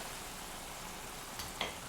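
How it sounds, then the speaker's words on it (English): A large batch of food deep-fries in hot oil, giving a steady, dense sizzle throughout, broken near the end by a couple of small sharp pops or clinks. "when you're frying that much stuff and it's not connected, I'm basically making an egg's nest"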